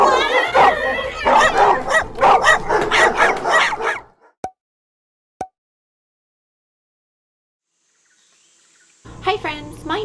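Dogs bark and whimper in an excited, rapid run of yips for about four seconds, followed by a few isolated clicks and near silence, then a brief burst of sound near the end.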